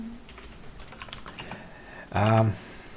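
Someone types code on a computer keyboard in quick bursts of light clicks, followed by a short vocal sound near the end.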